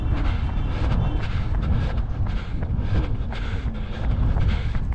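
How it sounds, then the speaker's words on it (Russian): Strong wind blowing along the Sochi seaside embankment, a loud, constant low roar buffeting the microphone for the whole stretch, with no voices. "Ветерок сильно поднялся."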